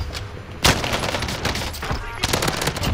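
A PPSh-41 submachine gun fires rapid automatic bursts in the video game Warzone, sharp close rattling volleys with a brief pause between strings of shots.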